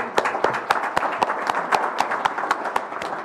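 A small audience at a Rotary club meeting claps in a loose, sparse rhythm of distinct sharp hand claps, close by and slowly tapering off.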